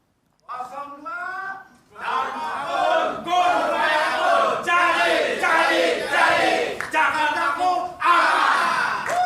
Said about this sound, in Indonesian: Saya ingin mendengar yel-yelnya dulu untuk, dalam tanda kutip ya, pasukan pendukung calon wakil gubernur nomor urut 2